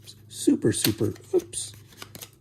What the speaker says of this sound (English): Here, we shuffle this up.